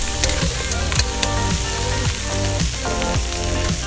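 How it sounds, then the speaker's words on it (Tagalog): Duck adobo in tomato sauce sizzling in a pan while being stirred, a dense close crackle with repeated scraping strokes of the spoon, no talking. "Haluin na naman uli natin."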